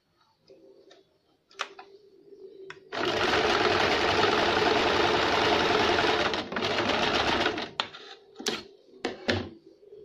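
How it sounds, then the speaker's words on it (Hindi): A sewing machine double stitches a baby frock in one loud continuous run of a few seconds, framed by soft clicks and a brief hum before it starts, with a few sharp taps and knocks after it stops. "इस तरह से हम रंग साइड से सिलाई देंगे। डबल सिलाई लगाएंगे।"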